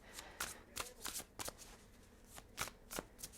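Tarot cards are shuffled by hand close by, giving a quick irregular run of crisp riffling snaps and flicks over a quiet background, with no talking.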